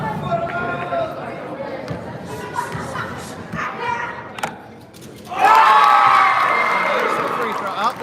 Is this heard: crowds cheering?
yes